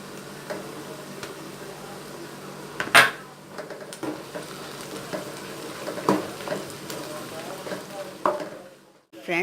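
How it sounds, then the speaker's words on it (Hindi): Garlic frying with onions in a pan for okra masala, a low background sizzle with intermittent stirring clinks and scrapes, including one sharper knock, quiet and close. "फ्रेंड्स, लहसुन डालने के बाद हमने 2 मिनट भूना है"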